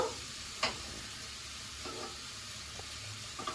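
Curry being stir-fried in a pan: a soft, constant sizzle with a few scattered scrapes and taps of a spoon, faint and close, no voices.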